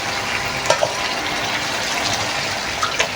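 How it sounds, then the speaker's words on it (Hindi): Water splashes into a hot pan, hissing and sizzling steadily with a few brief clinks, close up and fairly loud, with no talking. "थोड़ा सा मैं इसमें पानी डालूँगी"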